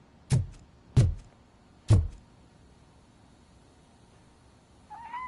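Grumpy the cat in the Robocop video game gives a short meow near the end, after three sharp, loud hits spaced about a second apart in an otherwise quiet scene.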